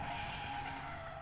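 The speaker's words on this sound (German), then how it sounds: "die Autos sind lauter als du" Tires skidding and engines roaring from cars at a motorsport event in Allstedt, a continuous distant screech and rumble held steady for a moment without any voices.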